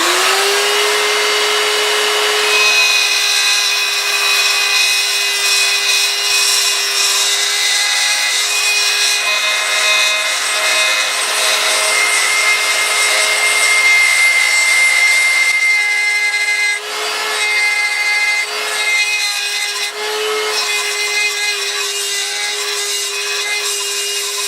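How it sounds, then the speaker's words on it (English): An electric die grinder porting a Mopar 440 intake manifold to match the gasket whines at a high, steady pitch close by and runs almost without a break, its tone dipping briefly as the bit bites into the metal. "I'm going to take the electric die grinder and just start working the port"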